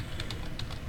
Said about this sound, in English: You can hear actually me typing on the keyboard.